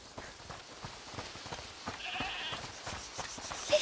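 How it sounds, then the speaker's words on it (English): A goat named Tramontane bleats in the video game A Plague Tale: Requiem, faint and somewhat distant over quiet ambient game sound, with a brief higher call near the end. "Listen. Is that the goat he talked about?"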